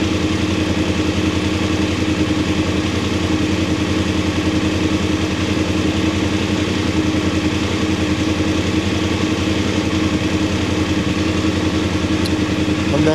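Voge 900 DSX motorcycle engine running steadily at idle, a close, loud, even throb that continues unbroken with no voices.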